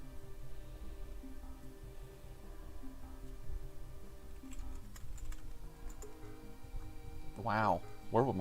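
Fingers typing on a computer keyboard in a quiet room, a steady run of soft clicking keystrokes through most of the stretch, with a voice speaking briefly near the end.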